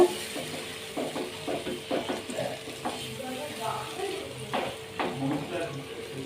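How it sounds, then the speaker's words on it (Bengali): Marinated masala for tandoori chicken frying in hot oil in a pan, a close sizzling hiss broken by repeated scraping stirs and clinks of the spoon, with a voice faintly in the background. "এবার ম্যারিনেট করে রাখা মশলাটা এর মধ্যে দিয়ে দেবো দিয়ে তেলের সাথে ভালো করে একটু নাড়াচাড়া করে নেব"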